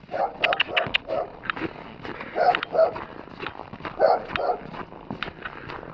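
Stray dogs bark repeatedly in short bursts, some yips among them, close by and outdoors where an elderly woman feeds them, with footsteps and faint rustling in between.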